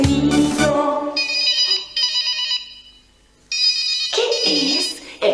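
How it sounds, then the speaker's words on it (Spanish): A telephone rings in repeated electronic ringtone bursts, bright and tonal, with short gaps of near silence between rings and a brief low thump at the start. "El teléfono sonó."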